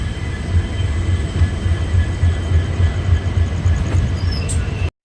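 Krishna Express, the Adilabad–Secunderabad train number 17406, rumbles past in a loud, steady roar of wheels and carriages with a rhythmic low clatter, heard close up until it cuts off abruptly at the end.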